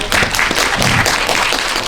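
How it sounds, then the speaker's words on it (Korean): Brief applause from an audience at an indie film anniversary event, a short loud spell of many hands clapping together with a roomy, continuous texture. "수용님께도 박수 부탁드립니다."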